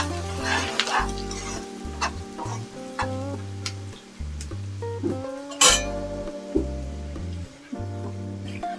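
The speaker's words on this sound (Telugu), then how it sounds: "అలాగే ఇప్పుడు బగారాకు వేసుకుంటున్నాం." A tempering sizzles in a hot pan for marinated chicken, crackling and spitting steadily, with scraping and stirring clatter, a sharp hiss midway, and low tonal humming beneath.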